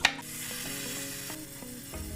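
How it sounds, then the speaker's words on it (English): Ricotta cheese stirred with pepper, salt and oil in a bowl: a steady, soft, wet scraping and mixing sound, close and continuous with no talking. "And then we just mix it up."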